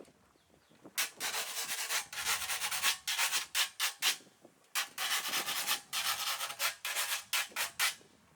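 Rhythmic raspy scraping strokes from a scraped percussion instrument, played in quick bursts with short pauses between phrases.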